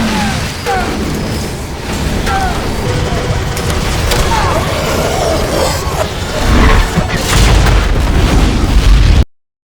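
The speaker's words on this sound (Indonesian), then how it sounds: "Ledakan besar pun terjadi dan baling-baling akhirnya berhenti" A big explosion in a disaster film, a heavy rumbling blast with bursts and crashing debris that builds and grows louder before cutting off abruptly.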